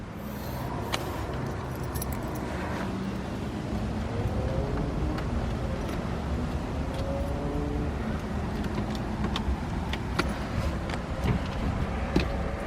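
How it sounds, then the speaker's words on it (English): A 1976 Triumph TR6 engine idles steadily at close range with a low rumble, while faint clinks and small rattles come and go over it. "See, the car starts right up without a fail."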